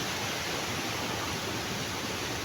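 Smoky Falls in Antequera, Bohol, its flow reduced by damaged rocks, gives a constant close rushing hiss of falling water, even and unbroken with no other sounds.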